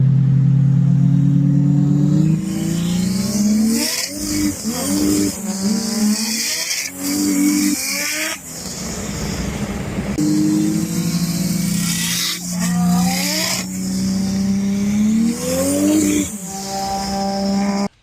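A race car on a track day at a no-prep racing event drives hard and revs loudly and close, its engine climbing and dropping through repeated gear changes, with brief tire squeal and no talking.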